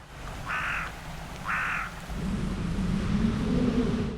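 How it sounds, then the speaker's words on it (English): Eurasian blackbird in a field recording, two short clear whistled phrases a second apart, then a low rumbling wash of background sound, moderately near. "His first recordings, this Eurasian blackbird."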